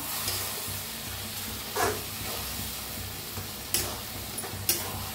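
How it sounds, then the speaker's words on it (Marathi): A vegetable mixture with peanut powder being stirred in a pan, low steady sizzle with a few sharp scraping clicks of the spoon spaced through it, fairly quiet and close, no voices. "तर हे सगळं मिक्स करून घेते।"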